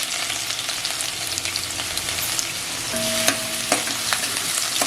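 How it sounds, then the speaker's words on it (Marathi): Garlic frying in hot oil for Schezwan chutney sizzles with a continuous close crackle, with a few light clinks and a brief tonal ring partway through. "आता तेली गरम झाले तर मी आता लसूण टाकते"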